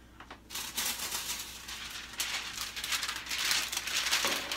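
Parchment paper is handled for lining a cookie sheet, producing a continuous close crinkling rustle that swells and eases over several seconds.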